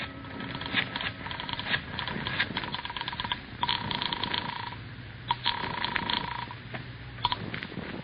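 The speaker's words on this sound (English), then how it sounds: "I rushed back into the house and grabbed the phone." Clattering handling noises and clicks, with a phone being lifted and buttons or dial sounds, a brief ring-like tone, in a quiet room.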